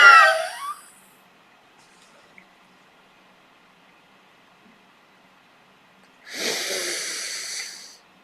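Yogic pranayama breathing done with empty lungs: two forceful, hissing breath bursts, a short one at the start and a longer one near the end, close to the microphone and separated by a long stretch of near silence.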